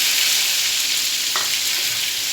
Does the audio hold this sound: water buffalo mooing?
no